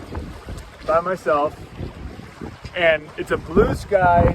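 Sailboat under a single sail on a beam reach through one-to-two-foot waves on a bay, steady wind rumble and water wash running throughout beneath a person talking.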